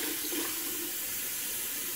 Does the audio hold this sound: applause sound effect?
no